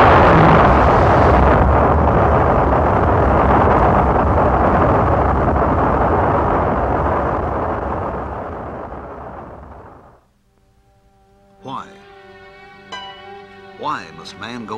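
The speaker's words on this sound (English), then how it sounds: "This launch carried an Earth satellite into orbit." A rocket carrying an Earth satellite lifts off with a huge, steady roar that fills the first ten seconds, then fades out abruptly. Faint tonal sounds follow.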